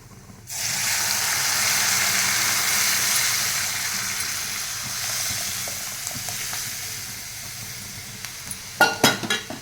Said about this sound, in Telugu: ఇందులో మాత్రం ఒక మూడు స్పూన్లు ఆయిల్ వేసుకున్నాను పోపు పెట్టుకున్నానండి